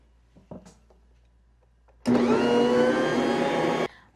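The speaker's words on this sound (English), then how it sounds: "I let this knead in the mixer for 8 minutes" A stand mixer kneading bread dough whirs into a loud, steady motor hum after a few quiet clicks, running close and alone for about two seconds before stopping.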